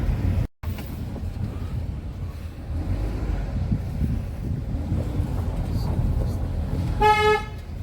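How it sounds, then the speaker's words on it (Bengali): A car pulling up and parking in front of a playing field, with steady engine and road rumble buffeted by wind noise, then a short horn toot near the end. "আমি মাঠের সামনে রাখছি গাড়ি"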